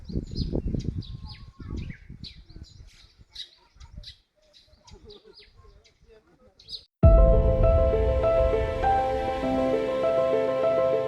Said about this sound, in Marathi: हा बघा, हा पक्षी येतो मध्ये मध्ये